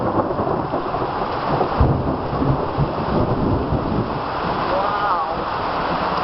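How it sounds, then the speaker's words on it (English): Heavy rain with a little hail pours down steadily while thunder rumbles close by, a low rolling boom swelling through the dense downpour. "It's lightning and thundering."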